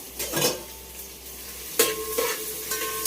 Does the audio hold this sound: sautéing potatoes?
yes